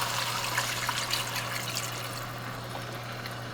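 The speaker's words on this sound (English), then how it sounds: "cover it up about 1/3 of the way with some bone broth" Bone broth poured over meat and vegetables in a pot, a steady, even liquid pour and trickle lasting several seconds with a low background hum.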